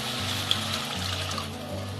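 Water is poured into a cooking pan of Bengali-style sorshe pabda fish curry, a faint, soft trickle and splash under a low steady hum, with no talk.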